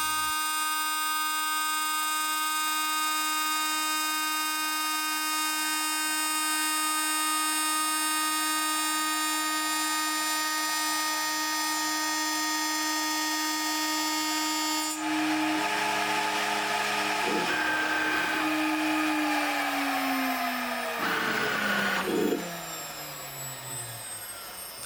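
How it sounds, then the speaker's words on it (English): A DMC2 milling machine spins an insert mill with a steel-cutting insert, first a steady high-pitched spindle whine, then a harsher, louder grinding chatter as it cuts into steel for several seconds before easing off. "And now for the insert mill. I did also switch to the steel cutting insert on the same shank."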